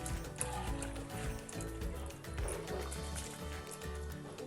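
Water pours and trickles steadily as it is drained off partly cooked rice for a Hyderabadi vegetable dum biryani, a continuous close liquid splashing with low rumbling underneath and no talk.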